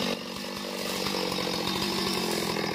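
A chainsaw roars steadily while cutting through coconut palm heart outdoors, loud, close and continuous with a constant engine drone, no speech.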